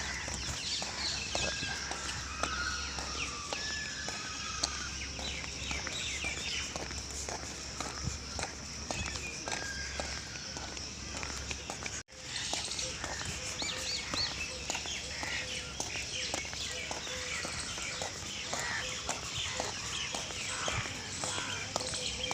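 Early-morning birds chirp throughout a walk along a road, mixed with steady close footsteps and outdoor background noise, the calls continuous rather than standing out alone.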